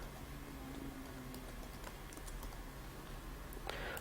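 An iqama number is entered on a computer keyboard, giving a few faint, scattered key taps over a quiet room background, with no speech.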